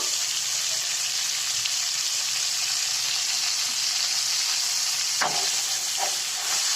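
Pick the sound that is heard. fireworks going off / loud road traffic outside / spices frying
spices frying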